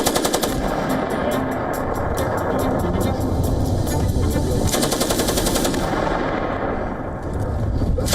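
Weapons fire on a Marine rifle range, loud rapid bursts of automatic gunfire and overlapping shots rattling continuously at close range.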